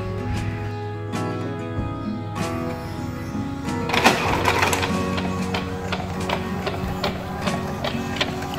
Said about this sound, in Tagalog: hintayin lang natin na siya ay mag-print